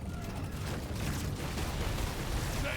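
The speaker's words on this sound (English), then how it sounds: "Ooh, that was such a good explosion chain right there." Explosions chain together in the sci-fi mining game Deep Rock Galactic: Survivor, a dense, continuous rumble of overlapping blasts and crackle with no clear gaps, moderately loud.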